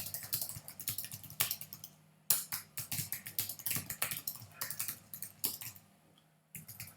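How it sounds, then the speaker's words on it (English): Rapid typing on a computer keyboard, entering a tooltip into a Zoho CRM web form, with uneven bursts of close, light key clicks and brief pauses between words. "you can just type in a kind of a tooltip"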